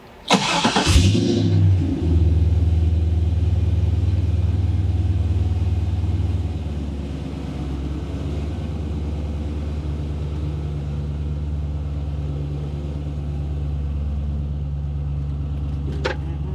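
A 1972 Datsun 240Z fitted with an LS V8 fires up with a sharp burst, then settles into a deep, steady rumbling idle and cruise, loud and close, with a brief rev near the end.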